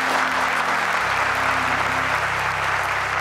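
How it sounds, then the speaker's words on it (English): Steady, loud audience applause filling the whole moment, a dense even wash of many hands clapping without a break, with a low electrical hum beneath. "You need to give these people an applause."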